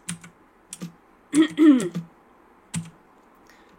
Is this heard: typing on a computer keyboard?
yes